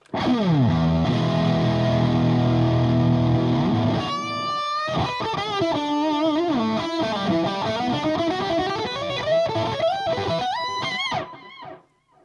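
Electric guitar through a Fulltone Fulldrive 1 overdrive pedal in vintage mode starts with a long ringing chord, then plays bending lead phrases, close and steady before fading out.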